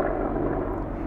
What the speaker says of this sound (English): Helicopter in the house.